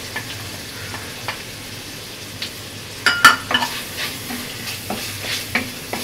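Food fries in a pan of sizzling oil with garlic and dried fish, a constant hiss broken by scraping stirs and a few sharp metallic clinks of the spatula, with no voices.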